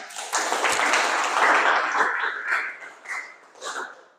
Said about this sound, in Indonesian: kita kasih aplaus tepuk tangan untuk teman kalian